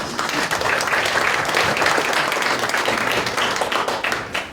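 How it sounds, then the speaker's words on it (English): An audience at a conference panel claps and applauds steadily, a dense wash of hands close by that holds throughout and tapers slightly at the end. "Can we give our first expert a clap, please?"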